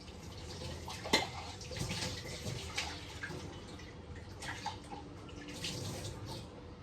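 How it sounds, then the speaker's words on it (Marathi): A cooking pot washed under a running tap, a quiet steady stream of water with scattered clinks and splashes as the metal vessel is handled close up. "मी टोप धुवून घेतलेला आहे"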